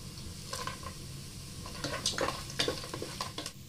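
Peanuts frying in a pan for kanda poha: a low sizzle under repeated scraping and rattling strokes of a spoon stirring them, with bursts of clatter.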